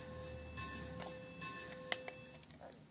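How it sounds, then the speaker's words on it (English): Electronic bell from a Lionel O gauge Polar Express model train, a series of faint bright metallic dings over a low background hum, each strike ringing briefly before the next. "Bell."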